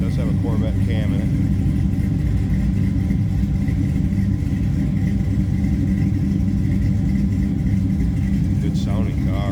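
A 1962 Chevrolet Nova restomod fitted with a Corvette cam idles with a loud, lumpy rumble. It sits close and steady throughout, rising in a few brief revs.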